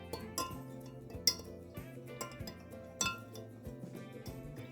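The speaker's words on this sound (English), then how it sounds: "I like to give it a stir with the actual measuring spoon itself" Cleaner spray mix made with citrus-infused vinegar being stirred with a measuring spoon in a container, giving quick repeated clinks and taps close by over a soft musical background.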